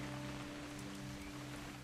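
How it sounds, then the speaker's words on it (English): Steady rain patters continuously over a low droning hum in the video game What Remains of Edith Finch, with no voices present; a soft, even wash of drops throughout. "It's gonna rain the whole weekend, isn't it?"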